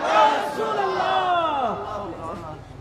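A large crowd at a Ramadan religious gathering chants the slogan Naraye Risalat in unison, loud and close, voices rising and falling together in a rhythmic call.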